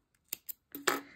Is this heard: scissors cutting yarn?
yes